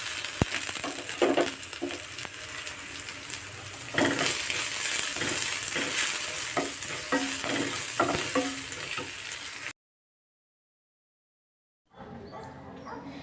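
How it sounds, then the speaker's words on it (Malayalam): Crushed ginger and garlic frying in a pan for a jackfruit and jackfruit-seed roast, a steady close sizzle with spoon scrapes and stirring clatter for about ten seconds, then a sudden silence before the frying faintly resumes. "ഇനി ഇതിലേക്ക് ഇഞ്ചി വെളുത്തുള്ളി ചതച്ചത് ഇട്ട് കൊടുക്കാം"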